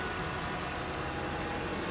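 A 2009 Honda CR-V engine idles steadily after a knock sensor replacement, a low continuous hum with broadband noise, close and unbroken.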